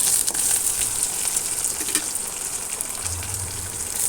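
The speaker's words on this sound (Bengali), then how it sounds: "সামান্য একটু জল দিয়ে দিলাম।" A little water poured into a pan of frying onion and tomato, a steady close hiss and gush of liquid over sizzling with no talk.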